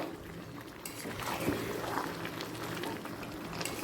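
A pot of chicken curry with potatoes and fried spices bubbling and simmering steadily, a continuous close hiss and burble with a faint clink partway through.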